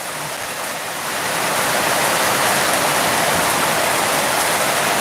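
Steady heavy rain pours down outdoors during a monsoon downpour in a rural market area, a dense continuous hiss that swells slightly after the first second and holds loud throughout, with no talking.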